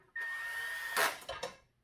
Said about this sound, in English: Use my handy dandy drill here.